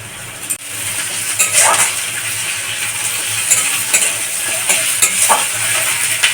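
Onions and ginger-garlic paste sizzle in a pan under brisk stirring, with a spoon scraping and clinking against the metal in irregular bursts close up over a steady frying hiss.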